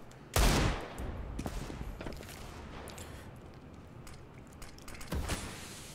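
Gunfire in the tactical shooter CS:GO during a pro league match: a sharp burst of shots at the start, scattered single cracks through the middle and another cluster near the end.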